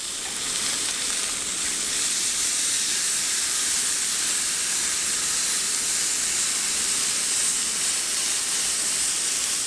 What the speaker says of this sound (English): I'm just pressing it to where the steak makes full contact with the griddle, and that's how you get the nice char.